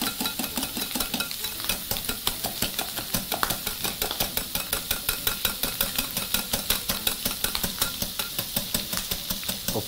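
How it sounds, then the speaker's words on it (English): Whipping cream being beaten in a bowl, a fast steady rhythmic swish-and-tap of the whisk repeating evenly throughout, close and moderately quiet with no talking. "now you can proceed to finish off your whipping cream"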